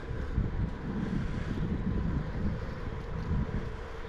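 Steady cold wind rumbles and buffets against the microphone during a bicycle ride, a continuous low roar with no voices.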